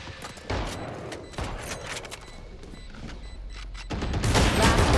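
Bursts of rapid gunfire from a gun in VALORANT crack out in several loud volleys, building into a denser, heavier barrage toward the end.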